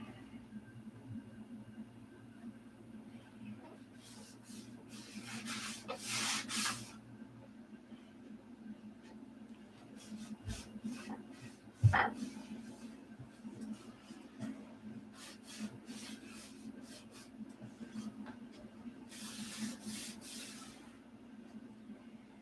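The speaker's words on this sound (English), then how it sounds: "I'll just sand on this for a while." Hand sanding scrapes back and forth on the bottom of a surface, in bursts of rough hissy rubbing separated by quieter pauses, with a sharp knock partway through.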